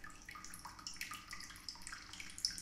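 Toilet flush in a video game, a faint gurgling rush of water with bubbly splashes that continues steadily throughout.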